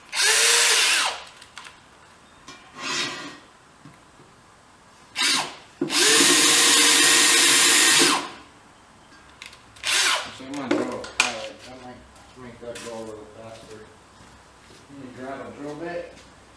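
A power drill spins a drill bit into metal in bursts, whining loudly for a second or two at a time with one longer sustained run, alternating with someone talking between bursts.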